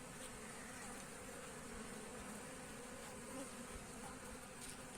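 A dense, steady buzzing of many honeybees in a crowded hive, close and even, with no voices.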